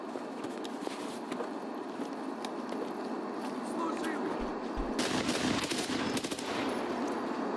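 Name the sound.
gunfire in the video game Escape From Tarkov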